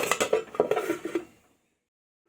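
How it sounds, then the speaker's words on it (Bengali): A metal lid clatters onto a cooking pot of plum chutney, several quick close clinks and rattles settling over about a second before silence. "এবার আমি এটাকে ঢাকা দিয়ে দিব 3 থেকে 4 মিনিটের জন্য।"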